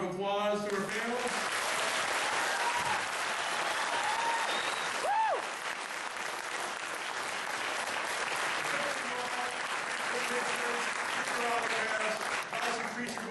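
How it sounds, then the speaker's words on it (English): A crowd applauds a Q&A panel at a fan event, sustained clapping and cheering filling the room, with voices calling out over it and a brief whistle-like rise partway through. "Want everybody to give a big round of applause to our panel?"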